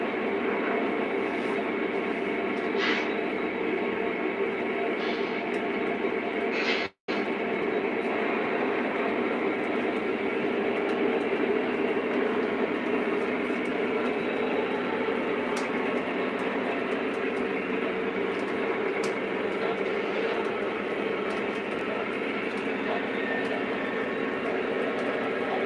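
A big Conrail freight train rumbles steadily throughout, a continuous low mechanical drone with faint rail noise, briefly cutting out once near the start.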